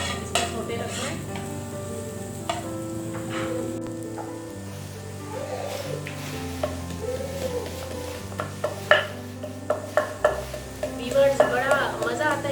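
Egg roll filling with garlic being sautéed in a pan, a low steady sizzle under repeated spatula stirs and scrapes, with sharper clinks of utensil on pan growing more frequent toward the end.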